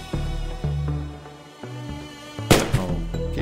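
Video-game gunshots in The Darkside Detective ring out as several sharp cracks over a droning musical background, with one loud blast near the end.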